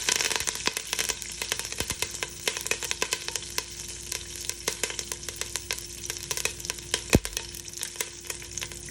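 Curry leaves (kadipatta) fry in hot oil in a pan for upma, giving a steady, close sizzle full of sharp crackles and pops scattered irregularly over several seconds, with no talking.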